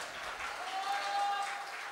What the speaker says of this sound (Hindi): मौसूफा को तालियां बजाकर इजाज़त दीजिए।